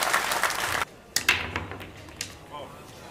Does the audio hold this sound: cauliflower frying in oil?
no